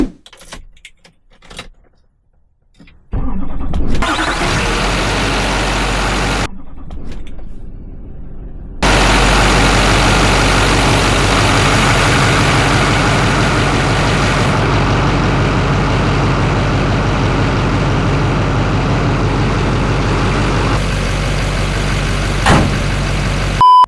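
A Chevy truck fitted with a cheap knockoff eBay turbo cranks briefly, pauses, then fires up and settles into a loud, steady idle close by, with a faint jingle of keys at the start and no talking.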